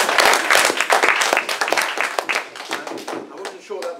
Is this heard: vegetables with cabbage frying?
no